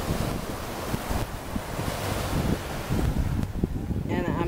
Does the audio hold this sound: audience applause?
no